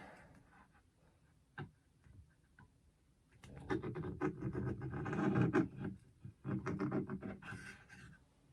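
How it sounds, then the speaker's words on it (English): A scribe tool is drawn along a knife blank to score a line, giving a faint tick or two and then a run of close, gritty scratching and rasping strokes that come in uneven bursts before dying away. "we just run this along, and it's just going to score a line in there"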